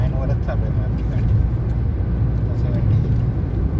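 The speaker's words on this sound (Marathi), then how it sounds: "79 वरच चालू आहे माझी गाडी." A car cruises steadily at about 79 km/h through a long road tunnel, a dense, loud, continuous rumble of engine and road noise with no breaks.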